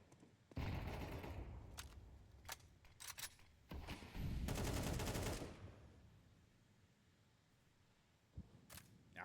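Gunfire crackles in a Counter-Strike match on the Overpass map, with several loud bursts of rapid shots and single cracks spread across the stretch, plus a sustained volley midway, then fading to quieter game ambience.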